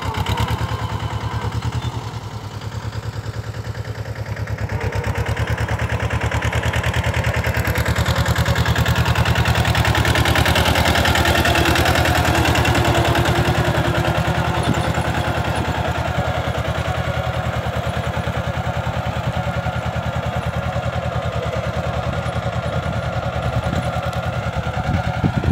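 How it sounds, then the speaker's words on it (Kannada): A tractor earthing up soil between rows of Elakki banana plants spaced six feet apart, its engine droning loudly and continuously, swelling slightly in the middle with a steady rumbling chug throughout. "ಈ ಬಾಳೆಯಲ್ಲಿ ಟ್ರ್ಯಾಕ್ಟರ್ ಮುಖಾಂತರ ತಿಗ್ಗಿ ಏರಿಸ್ತಿರುವ ವಿಶೇಷವನ್ನು ನೀವು"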